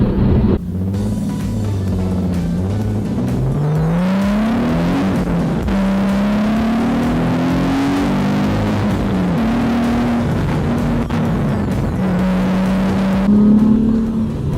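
A Nissan 370Z's engine rises and falls in pitch as it accelerates, a steady throaty exhaust drone running continuously with a brief louder surge near the end.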